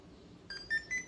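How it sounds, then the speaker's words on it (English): A Redcat Racing RC car's electronic speed control gives a series of short, bright electronic beeps as it is switched on, the tones rising in quick succession over a quiet background. "I think that's what it is when it does the 3 beeps."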